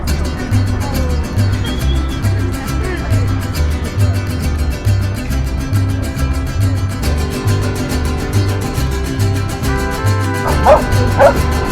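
Dogs bark repeatedly and excitedly at a dog playground in New York, mixing with yips and whimpers over a loud, steady background din.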